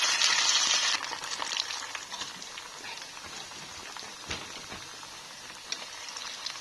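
Potato nuggets frying in a pan: a dense, crackling sizzle that is loudest at the start, then settles into a steadier hiss with scattered pops and a few sharper spits, close by, with no voices.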